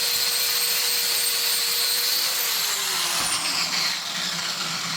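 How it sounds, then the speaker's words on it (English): Power grinder working a weld off steel on a Jeep shifter job, a loud continuous high whine that holds steady and then slowly drops in pitch as the tool winds down, with no talking. "Alright, so we got the weld ground off."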